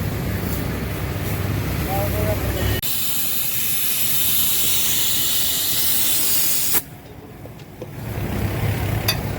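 Compressed air hisses steadily into a tractor tyre, a loud continuous blast that cuts off abruptly and then resumes after a short pause, with voices heard around it.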